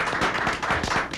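Crowd clapping in tribute to José Martí, a dense burst of applause with many overlapping hand claps, steady and fairly loud throughout the short moment.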